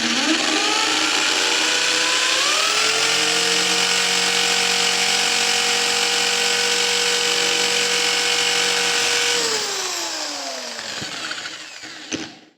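A Black + Decker HD555K50 550W hammer drill runs in hammer mode, boring into a wall with a loud, steady whine and rattling grind that holds for about ten seconds, then winds down and stops.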